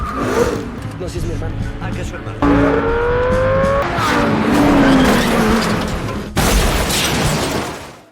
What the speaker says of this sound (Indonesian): mobil itu pun mengalami tabrakan di sebuah trotoar